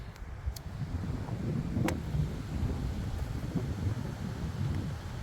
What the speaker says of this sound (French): C'est pas grave, il y a du vent.